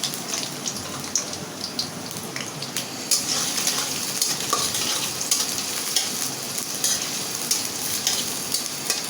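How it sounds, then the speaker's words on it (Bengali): Onions and green chilies fry loudly in a pan, browning in oil, a dense continuous crackle and sizzle with frequent stirring scrapes, close and with no voices. "এটা আমি বাদামি কালারে করে ভাজিয়ে নেব"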